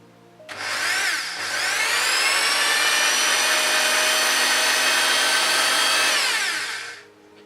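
A loud power drill bores through vinyl, whirring steadily for several seconds at close range, starting abruptly and winding down at the end.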